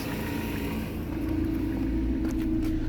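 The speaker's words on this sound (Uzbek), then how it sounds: "mana ventilyator ishlab turibdi hozir" A radiator cooling fan whirs steadily in a Chevrolet Cobalt with a manual gearbox, the engine idling at 95 degrees, making a constant close droning hum with a low rumble underneath.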